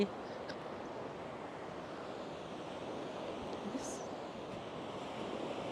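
Sea waves wash steadily onto the sandy shore at Suan Son Pradiphat beach, a continuous near surf hiss with some wind buffeting the microphone.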